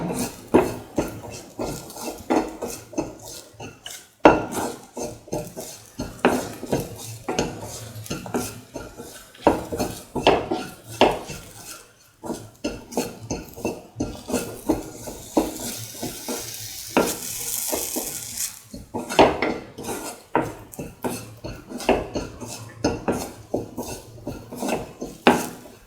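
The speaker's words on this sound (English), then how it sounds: "Sauteing mix thoroughly." Sweet vermicelli banana pasta with coconut being sautéed and mixed in a pan: repeated sharp clinks and scrapes of a utensil against metal in an irregular rhythm, with a faint sizzle beneath, close and clear.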